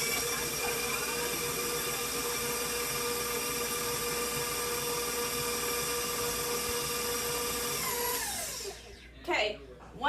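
An electric hand mixer beats eggs and salt into cookie dough at medium speed, giving a steady, loud motor whine with bright harmonics for about eight seconds before spinning down and stopping.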